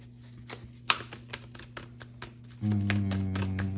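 Tarot cards being shuffled: soft riffling taps and flicks, then a denser rustle of shuffling near the end over a faint steady hum.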